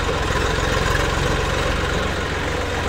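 Diesel engine of an Eicher 380 Super DI tractor idling at a farm site where mud is being loaded, a steady, loud low rumble with a regular throbbing pulse running throughout.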